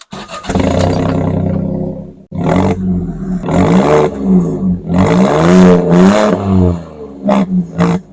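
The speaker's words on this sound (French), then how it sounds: "une petite ligne d'échappement qui n'a pas de silencieux" A Fiat 500 Sport engine roars and revs loudly through an exhaust with no silencer, several throaty bursts rising and falling up close.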